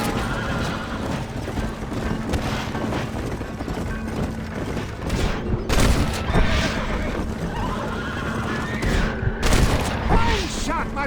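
Rapid gunshots crack among horse hooves clip-clopping and whinnies in a Red Dead Redemption gunfight, with several loud bangs and bursts over a steady rumble.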